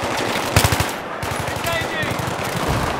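Rapid automatic gunfire from the Battlefield 3 campaign mission Operation Guillotine: a loud close burst of shots, then continuing rattling fire with distant pops, under a tense battle soundscape.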